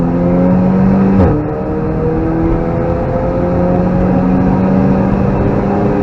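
A car driven hard on the Nurburgring, its engine note holding a loud, sustained drone at full power after a brief dip, heard close from onboard with no talking.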